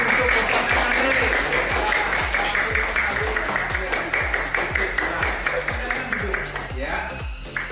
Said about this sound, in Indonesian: Tepuk tangan untuk pemenang Andre.